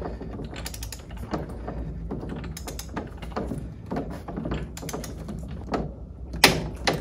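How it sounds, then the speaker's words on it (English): A torque wrench tightening hardware on the lower unit of a Mercruiser outdrive, with a series of close metallic ratcheting clicks and clanks at an uneven pace in a quiet workshop, and no talking. "we will know it's at 65 when the torque wrench clicks"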